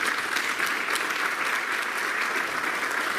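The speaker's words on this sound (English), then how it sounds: "So big round of applause and thank you for those individuals." An audience at a 12th grade school awards ceremony gives sustained applause, a steady, full crowd of clapping hands with no speech over it.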